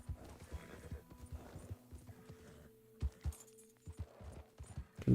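Horse hooves clip-clopping along a road in a Western-themed video game, a string of distinct near hoofbeats in an uneven trotting rhythm over soft game music, with a neigh mixed in.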